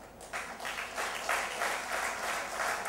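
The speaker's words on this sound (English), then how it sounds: "Please also join your hands to applaud the entire team from Axis Young Bankers Program" An audience at a convocation ceremony for a young bankers program applauds steadily, a dense wash of many hands clapping at close range that swells slightly and holds for the full stretch with no talk over it.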